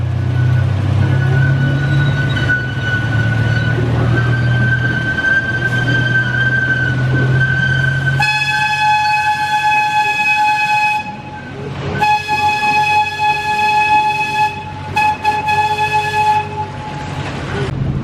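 Ride aboard Leap-the-Dips at Lakemont Park, the world's oldest wooden roller coaster: a steady, close rumble of the cars on the track, then sustained high squealing tones as the train rolls through a wooded stretch beside a creek.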